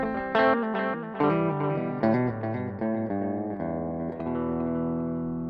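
Electric guitar notes and chords ring out through heavy effects from a Boss GX-10 processor on its clean channel, drenched in reverb with a long wash trailing each strum, played alone.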